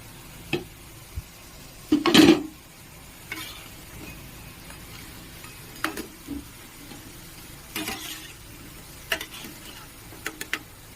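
Puffed rice pakoras fry in oil under a soft, low sizzle, broken by scattered clicks and a burst of louder spattering and scraping as they are stirred and lifted out, with no voices.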